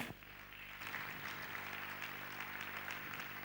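A church congregation applauds during a service, a soft, steady wash of clapping that swells after a brief pause at the start and continues evenly at a moderate distance.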